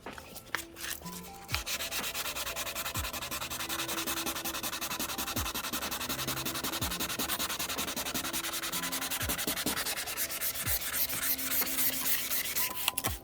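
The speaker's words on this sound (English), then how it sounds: "And that's why I wet sand," Wet sanding strips old clear coat from a 2012 GMC Denali headlight, a steady close rasping scrub with rhythmic back-and-forth strokes continuing throughout at moderate volume.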